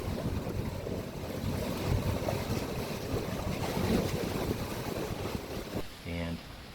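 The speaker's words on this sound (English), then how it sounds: "Engines obviously are off, and we're sailing along at a couple knots." A sailboat glides at a couple of knots through the night with its engines shut off, a steady wash of wind and water rushing past in a continuous near hiss.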